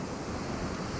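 A storm in the video game Jurassic World Evolution 3 roars as a steady wash of wind and rain-like noise, loud and unbroken, with no voices over it.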